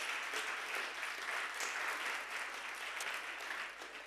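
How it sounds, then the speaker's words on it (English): Applause from a conference audience at a Nordic event on children's digital safety, a steady, dense wash of clapping that fills the room and holds for several seconds before easing slightly toward the end. "And another round of applause."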